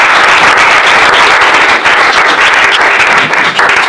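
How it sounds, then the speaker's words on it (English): Loud, dense applause from a crowd at the 2013 CrossFit Games press conference honouring the champions, sustained clapping with scattered sharp claps throughout. "Let's give them a round of applause."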